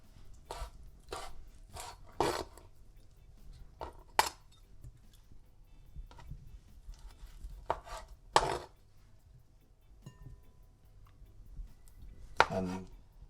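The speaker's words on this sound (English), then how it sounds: "I'm gonna cut my conch" Knife chopping conch into smaller pieces on a board, a series of sharp, close thuds at irregular intervals, some in quick pairs, with quiet pauses between.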